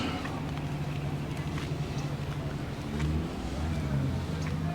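BMW 3 Series cars pulling out of a Cars & Coffee meet in Griffith Park, Los Angeles, their engines a steady low rumble that swells near the end, with people talking nearby.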